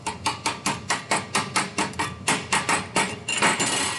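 Slag being chipped off a stick (SMAW) weld bead on a steel coupon: a steady run of sharp, close metallic taps, about three per second, speeding into a denser scraping flurry at the end, with no talking.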